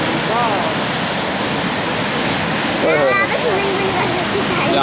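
Strong sea water rushes and churns at Kanyakumari, a loud, continuous roar of surf, with excited voices calling out over it.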